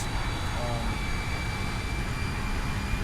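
A Nimbus UH-1 Huey helicopter flies in the X-Plane 11 simulator, giving a continuous, loud turbine-and-rotor drone with a thin steady whine above it, unbroken throughout.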